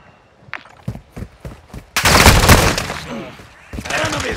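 Bursts of gunfire in Call of Duty: a few sharp single shots, then a dense, loud volley of rapid fire that fades and flares up again, with a voice speaking among the shots.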